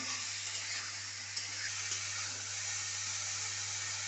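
Salt and turmeric being stirred into hot oil in a frying pan for a paneer dish, giving a continuous soft sizzle with a faint scrape of stirring, steady and close, no voices.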